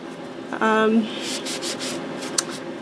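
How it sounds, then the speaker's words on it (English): A baby wipe rubbing leftover bits of sponge off a pad in a coaster craft project: soft, close scrubbing and brushing strokes, with a brief voice sound partway through. "I'm just going to use my baby wipe and dust off all this excess little spongy stuff."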